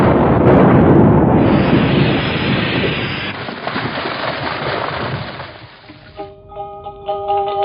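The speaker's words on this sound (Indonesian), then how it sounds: "sepertinya suara ledakan pedang naga puspa" A sword-blast explosion effect in an Indonesian radio drama, a loud roaring burst that rumbles on and gradually decays over several seconds before fading out into quieter tonal sound.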